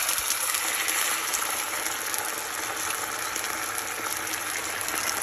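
A 400 gram tin of diced tomatoes pours into a pan with a steady wet gush and sizzle, loud and close, running continuously without voices.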